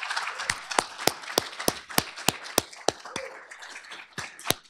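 Scattered audience applause at an academic talk, with a few close, sharp, distinct claps standing out over a thin background patter that gradually thins out.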